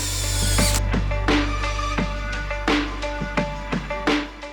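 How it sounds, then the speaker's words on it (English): Screws being driven into a 1x2 wood board with a power drill while building a fold-away Murphy bed, several short whirring bursts and clicks in a row over a steady hum, close and fairly loud. "I just drilled some screws on the 1x2 for additional safety"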